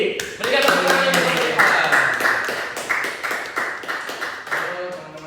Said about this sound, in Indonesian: Kita sambut Bapak Devanza Givaris ini. Berikan tepuk tangan